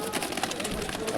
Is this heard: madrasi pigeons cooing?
yes